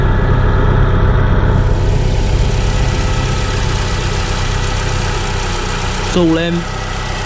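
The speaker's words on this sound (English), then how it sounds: "That is not misfiring at all." Mini Cooper 1.6 R50/R53 engine idling smoothly, a steady even rumble under a short spoken remark, with a brief rising whine near the end.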